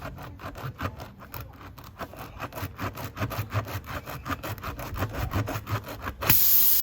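A rasp tool scrubs back and forth inside a puncture hole in a tyre, a fast, regular series of rough scraping strokes close by, ending in a brief louder rustle.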